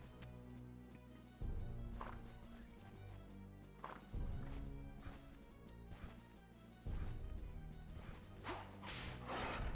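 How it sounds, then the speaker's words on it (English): Game dogs in Castlevania 64 bark in quiet, scattered bursts over a looping, low musical background, with several sharp yaps and thumping impacts spread across the stretch. "Can't remember the last time one of these dogs caught me."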